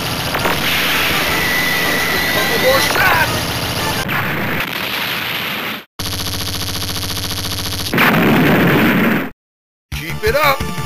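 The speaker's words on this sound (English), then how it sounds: "heavy artillery barrage" A heavy artillery barrage in the arcade shooter Donpachi, heard as a loud, dense run of explosions and bursts mixed with game effects, broken by abrupt cuts and short silences.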